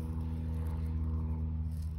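Airplane flying overhead while out in the Diablo range of California: a steady low droning rumble with a faint hum, continuous and moderately distant, without voices.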